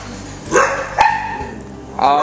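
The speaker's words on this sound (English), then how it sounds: "It is full of dogs. 18 kennels, often very, very loud." Dogs in a kennel building holding 18 kennels bark in loud, sharp bursts, three clear barks spaced about half a second apart over a noisy, echoing background.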